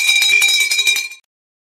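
A single bell rings with a bright, clangy metallic tone and quick repeated strikes for about a second, then cuts off into silence.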